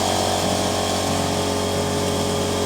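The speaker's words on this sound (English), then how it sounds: "let's turn the compressor on" Small air compressor for a Parkside air stapler and nailer running after being switched on, a loud, steady mechanical hum and rattling drone with no change throughout.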